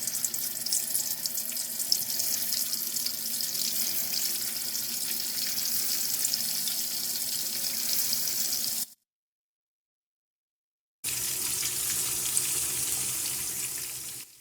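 Chicken frying in hot oil over a low flame produces a continuous bright sizzle. It drops to silence for about two seconds, then resumes at the same level, with no voices.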